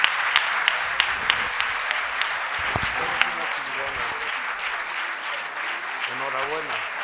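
A crowd at a book presentation during a book fair claps continuously while voices talk over the applause, with a few sharper claps standing out near the start.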